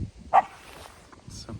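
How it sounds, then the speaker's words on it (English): A single sharp dog bark rings out near the start, followed by low rumbling growls and quieter yips, fairly close by. "she's growling and barking away."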